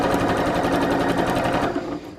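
A sewing machine runs a continuous, rapid stitch close up, sewing a narrow seam along a fabric strip laid onto wadding, then slows and stops at the end.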